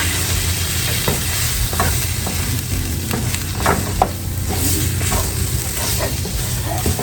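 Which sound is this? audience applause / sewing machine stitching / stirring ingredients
stirring ingredients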